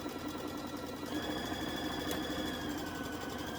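A sewing machine stitches a quilt seam, running in a steady, fast mechanical whir with a faint regular rattle, fairly quiet and close, with no talking over it.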